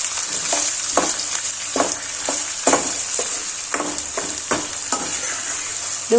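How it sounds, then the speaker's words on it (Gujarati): Finely chopped onions sizzle in hot oil while being sautéed for methi muthiya shak, a steady bright hiss broken by regular scraping stirs of a spoon against the pan, close and without talk. "ડુંગળીને પ્રોપર રીતે સાતળી લેવાની છે, ચડવા દેવાની છે."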